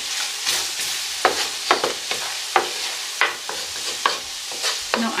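Curry being stirred in a pan on a stovetop while it fries, with repeated scraping strokes and a soft sizzle underneath, close and fairly steady.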